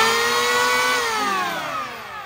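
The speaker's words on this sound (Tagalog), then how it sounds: "So, Boss Jerry Trinidad, ito po yung kasama ng inyong chainsaw na planer, electric planer." An electric chainsaw-style planer runs with a loud, steady high-pitched whine close by, its pitch sliding slightly as the motor speed shifts and gradually easing off toward the end.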